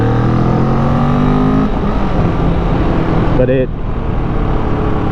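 A Vulcan 650 cruiser motorcycle's engine drones while riding, a loud, close, steady hum that shifts pitch partway through, under someone talking.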